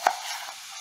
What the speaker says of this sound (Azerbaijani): Kartofları da kubik şəklində doğruyorum.